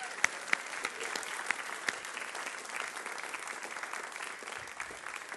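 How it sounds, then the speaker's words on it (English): A church congregation applauds through a sermon, steady dense clapping from many hands filling the room at moderate distance, with a few sharper individual claps standing out near the start. "Say amen and give Pastor Daniel and his team a round of applause"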